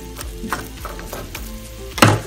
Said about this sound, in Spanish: Vamos a revolver muy bien.